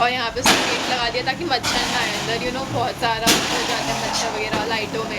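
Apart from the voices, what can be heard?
Diwali firecrackers bursting in the background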